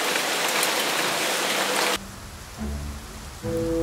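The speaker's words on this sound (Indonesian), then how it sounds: "Tapi hujan deras." Heavy rain pours in a dense, even hiss for the first two seconds of an Indonesian-language animated telling of The Princess and the Goblin, then cuts off abruptly into quieter music-like tones.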